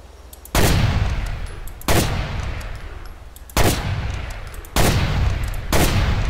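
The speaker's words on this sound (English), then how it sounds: "Let's shoot somebody." Video game gunfire in GTA 4: The Ballad of Gay Tony: four loud, sustained bursts of rapid automatic shooting with abrupt starts, separated by short gaps, no talk.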